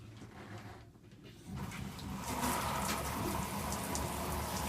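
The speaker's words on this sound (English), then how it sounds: "So hopefully I can just turn this on and we'll get hot water out of it." Hot water gushes from a tap aboard a narrowboat, starting after a brief quiet moment and then running steadily and fairly loud, with a splashing hiss into a basin.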